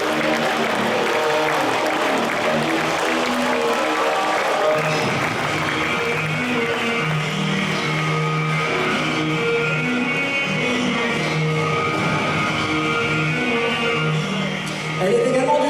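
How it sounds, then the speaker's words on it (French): Sustained applause and crowd noise in an arena for Spanish basketball player Lara González, number 27, at a team presentation; steady and loud throughout, with music-like tones underneath. "Je vous demande d'applaudir notre espagnole, numéro 27,"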